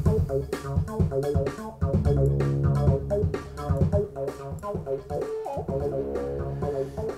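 A music mix driven hard into a transformer-modeling saturation plugin, with gain pushed up so the full, dense sound turns thick and gritty; it plays steadily throughout with no talking.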